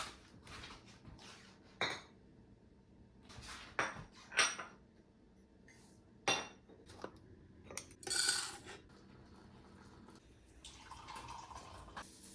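Dishes and cutlery clatter in a kitchen as a bowl is taken out, with sharp, irregular clinks and knocks spread across several seconds, close by and moderately loud, ending in a brief soft rustle.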